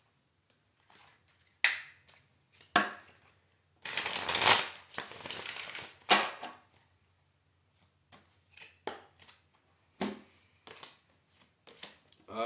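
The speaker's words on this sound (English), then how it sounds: "we're going to cut the deck, clear it, flow forward." A tarot deck being cut and shuffled at close range, heard as sharp card riffles and slaps, with one long dense shuffle in the middle and scattered quieter card taps around it, no talking.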